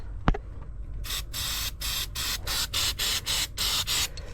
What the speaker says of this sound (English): I'm gonna spray it all down the tracks.